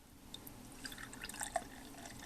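Ninkasi Oatis oatmeal stout pours from a bottle into a chilled glass with soft, faint gurgling and dripping splashes over a couple of seconds.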